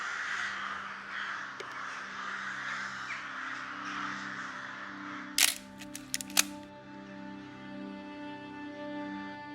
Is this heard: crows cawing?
yes